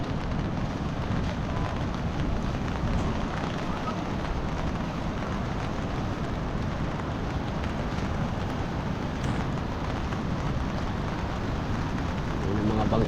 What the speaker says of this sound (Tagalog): Medyo talaga lang malakas ang ulan.